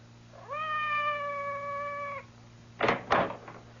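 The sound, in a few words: cat meowing outside a door in a radio drama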